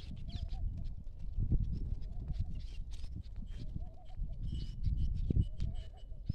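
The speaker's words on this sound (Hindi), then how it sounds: "सभी बकरियां जा रही है घास खाने के लिए।" Goats and sheep on a village farm heading out to graze in the morning, with scattered bleats over a steady rustle of hooves and movement, close by and fairly busy throughout.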